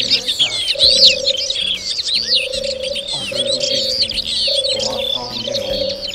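Wild birds sing in open country at Plaines-Villes, Ploufragan in the Côtes d'Armor: dense overlapping chirps and trills, with a steady pigeon-like cooing repeating underneath throughout.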